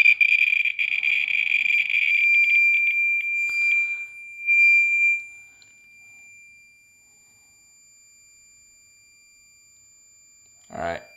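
A Radeye B20 Geiger counter near a radium-226 source sounds a loud, high-pitched alarm beeping for about four seconds, then falls quiet, with a brief noise at the end.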